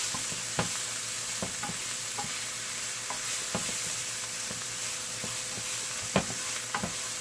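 Red onions sautéing in a pan, a soft steady sizzle broken by frequent sharp stirring clicks and scrapes, quiet and close with no talking.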